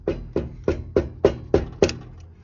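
A hammer taps on the soft axle seal of a Sears GT garden tractor, seven even, sharp knocks in a steady rhythm, close and moderately loud with no talking.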